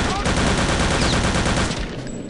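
Rapid automatic gunfire from a gun in Return to Castle Wolfenstein, a loud continuous rattling burst lasting about two seconds before it trails off.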